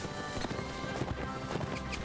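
Horse hooves clip-clopping at a gallop in the Mount and Blade video game, a steady rapid drumming under dense battle noise throughout.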